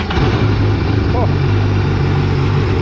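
Sea-Doo GTX personal watercraft engine firing up after a solenoid replacement, a loud, steady low rumble running throughout with a brief voice partway in.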